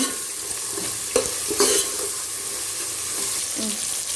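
Ginger garlic paste frying in a pan for plain biryani, a steady close sizzle with scattered spoon scrapes and stirring knocks throughout.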